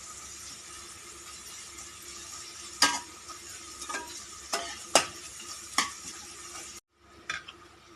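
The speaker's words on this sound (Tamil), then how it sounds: "வெங்காயம் பொன்னிறமாக வர வரையில் வதக்கிக்கலாம்." Onions being sautéed in a pan for chicken biryani give a faint, steady sizzle, broken by several sharp clicks of a spatula stirring against the pan.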